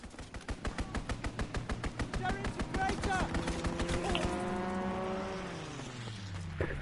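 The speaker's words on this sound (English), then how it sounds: "Fighter pilot inbound, strafing the target." A fighter plane strafing run in Call of Duty WWII: rapid, evenly spaced machine-gun bursts for several seconds, followed by a droning engine sweeping past and falling in pitch as it flies away.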